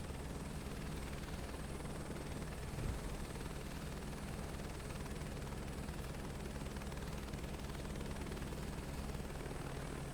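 Helicopter in Microsoft Flight Simulator 2024 hovering near Rotorua Kaharoa, a constant rapid rotor chop with an engine drone, steady and moderately loud throughout, with no voices.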